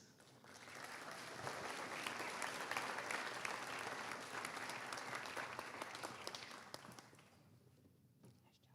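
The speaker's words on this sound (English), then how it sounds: "You guys have kept these claps going all night." Sustained audience applause fills the hall at an annual scholarship program, a dense crowd of clapping hands that swells, holds steady for several seconds, then thins out and fades near the end.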